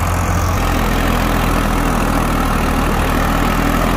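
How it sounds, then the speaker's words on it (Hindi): A Massey 103 tractor drives a 7 ft KSD rotavator through soil, its engine a steady, loud, continuous low drone with no break or talk over it. "रोटावेटर बहुत अच्छा चल रहा है जी"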